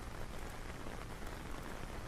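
Rain falls in a steady, dense patter on surfaces, a soft uniform hiss with no voices, fairly quiet and unbroken throughout.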